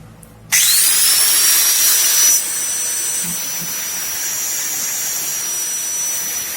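Angle grinder cutting material, a loud steady high whine that starts abruptly, holds, then drops to a slightly lower sustained level as the disc bites, with no talking.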